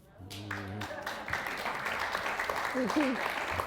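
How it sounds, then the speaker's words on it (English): Applause from a bookstore audience for an author about to turn 93, a soft, distant wash of clapping that swells gradually, with someone speaking over its start and other voices during it. "You get applause just for living"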